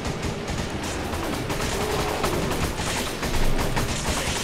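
Rapid, dense bursts of gunfire from two players pound a boulder during a Resident Evil 5 boss fight, a continuous crackling volley that stays loud and close throughout.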